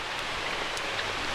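Steady rain falls at Mango Bay beach on Koh Tao, a continuous even hiss without pause, close and fairly loud, with no voices.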